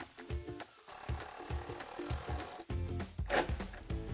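Face screws are driven into a cedar railing bar with a power driver, giving short buzzing whirs and clicks in quick repeated bursts, fairly close and moderately quiet.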